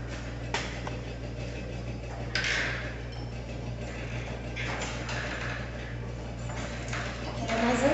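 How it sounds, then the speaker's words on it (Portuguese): An old household refrigerator drones with a steady low hum and buzz, with faint clicks and rattles layered over it, heard indoors at close range with someone speaking softly. "olha o barulheiro que essa geladeira faz"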